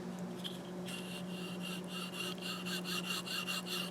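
Coated blade of a Reate D9 Plus knife sliding open, a close, dry rasping friction with rhythmic scraping pulses over a faint steady hum, no voices.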